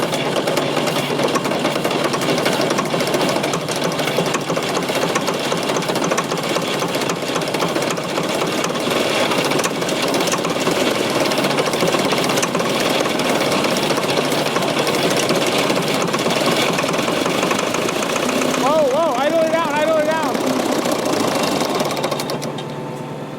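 A Fordson Super Major backhoe tractor's old diesel engine runs continuously with a rough, rapid knocking clatter, loud and close, staying steady for the whole stretch before easing off briefly near the end, with no talking.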